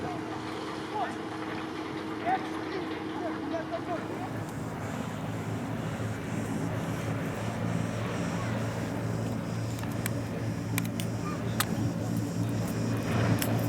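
Motorboat engine rumbling steadily as a boat comes into a harbour on a Greek island, a continuous low drone with wind noise on the microphone throughout.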